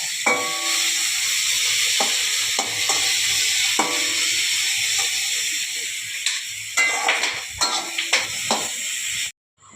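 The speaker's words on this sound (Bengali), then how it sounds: "এইদিকে একদম মশলাটা কষতে আরম্ভ করে দিয়েছি" Spice paste sizzles and fries steadily in a pan, with repeated scraping stirs cutting through the hiss; the stirring grows busier near the end before stopping abruptly.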